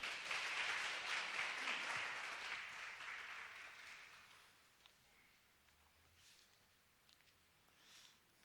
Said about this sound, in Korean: 오실 때에 큰 박수로 환영하며 맞이하겠습니다.